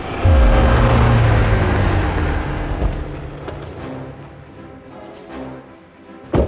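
A 2024 Toyota Land Cruiser drives along, its engine and road rumble loud and close at first, then settling into a steady lower drone with a few brief bumps and a sharp thump at the very end.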